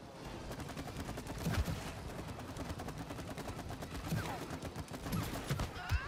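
Rapid gunfire from the It Takes Two video game crackles in dense bursts throughout, with sharper shot peaks punching through a busy, continuous game soundscape.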